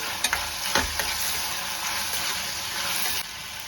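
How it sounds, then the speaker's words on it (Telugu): Onions and tomatoes fry for a fish curry with a steady broadband sizzle, broken by a few scraping stirs of the spoon through the pan, close and fairly loud with no talk. "కొంచెం ఎర్రగడ్డలు, టమాటాలు ఫ్రై వేసి ఉప్పు"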